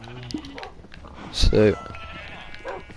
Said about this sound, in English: I think a sheep must have managed to spawn in here.